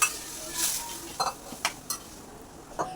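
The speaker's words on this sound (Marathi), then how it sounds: "आता छान अशी फोडणी दिली आहे थोडा वेळ परतवायची आहे" Garlic and asafoetida tempering cooking in a pan for a Marathi dal, with a steady faint sizzle broken by a few sharp metallic clinks of a spoon stirring against the pan, no talking.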